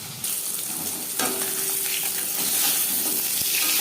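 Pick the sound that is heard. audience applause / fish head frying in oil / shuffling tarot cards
fish head frying in oil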